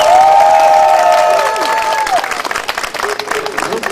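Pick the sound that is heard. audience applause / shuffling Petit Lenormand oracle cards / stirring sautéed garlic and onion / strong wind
audience applause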